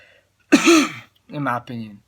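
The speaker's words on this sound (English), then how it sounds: "let me clear my throat" A person clears their throat with a short rough burst, followed by a couple of brief vocal sounds.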